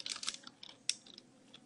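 Quick, light keystrokes on a computer keyboard as a command is typed for a Minecraft server plugin, a short irregular clatter of taps, close and quiet, with no voices.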